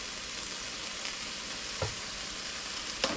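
Chicken stir fry sizzling in olive oil in a pan, a steady broadband frying hiss throughout with a couple of brief utensil scrapes or stirs near the end, no talking.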